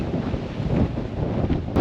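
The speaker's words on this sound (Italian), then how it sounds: "Il vento che stiamo subendo ora fa capire quanto sia difficile" Strong wind buffets the microphone during a trek near Cerro Torre in El Chaltén, Patagonia, a loud, steady roaring rush with no voices.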